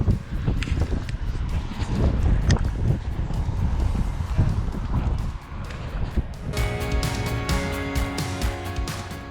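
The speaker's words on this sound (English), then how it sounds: "the wind made this clip totally inaudible" Strong gusts buffet a microphone at a scenic viewpoint during a cycling trip on the Wester Ross section of the NC 500, a loud continuous low roar throughout with faint muffled voices.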